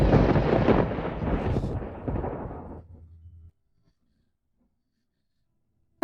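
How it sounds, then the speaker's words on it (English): Loud rumbling thunder in a drama scene, a heavy broadband crash that rolls and fades over about three seconds into a low hum, then silence. "President Yan, the thunder here is too loud"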